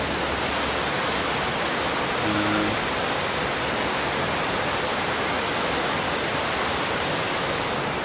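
Steady, loud rush of a jungle-like stream flowing through Medellín, a constant broadband wash of water with no breaks.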